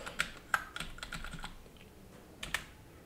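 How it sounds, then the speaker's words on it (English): Keys clack on a wired keyboard connected to a Redmi Note 14 phone, a quick series of close taps in uneven bursts, with no voice over them. "as I'm typing, it's automatically doing the thing on the phone"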